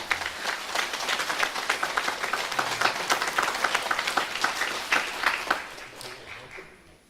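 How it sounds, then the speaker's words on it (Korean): A room full of people at a religious sermon claps warmly and continuously, the applause fading out toward the end. "우리 모두를 위해서 박수 한번 쳐주시겠습니까?"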